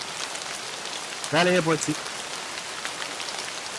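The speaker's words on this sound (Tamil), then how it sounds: "கோடை கால மழை" Steady summer rain falls across the whole stretch as a dense, even hiss close by, briefly broken by a short burst of speech near the middle.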